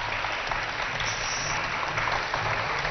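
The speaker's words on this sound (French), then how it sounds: "On les applaudit très très fort" An audience at a youth contest in Chad applauds the candidates with steady, dense clapping that fills the whole stretch evenly and stays loud.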